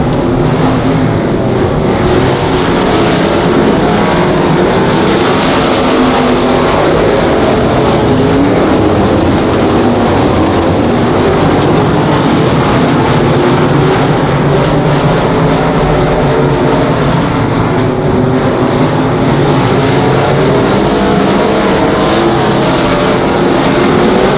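Race cars at Monarch Motor Speedway roaring down into turn one, a loud, continuous engine drone with a dense wash of motor noise sustained for the whole stretch, no talk heard.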